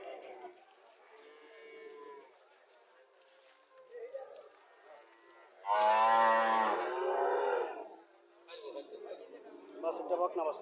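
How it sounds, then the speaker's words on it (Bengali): A dairy cow at a cattle market, shown with its heifer calf, gives one loud, drawn-out moo near the middle, close by, amid people talking and general market bustle. "গাভী বড় আছে।"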